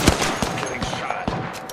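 Gunfire in the video game Apex Legends: several sharp shots crack in quick succession over a short burst, fairly close, with faint game noise in between.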